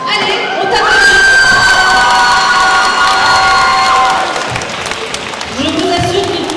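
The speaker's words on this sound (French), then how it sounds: "allez, on t'applaudit" An audience at a manga festival contest cheers and shouts with high-pitched whoops, a loud sustained crowd roar that fades slightly before scattered voices and claps return.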